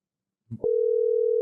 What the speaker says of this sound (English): It's still ringing, though.